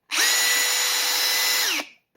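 A Metabo HPT hammer drill spins up and runs loud and close, a dense, even rattling whine held steady for about a second and a half before it winds down and stops.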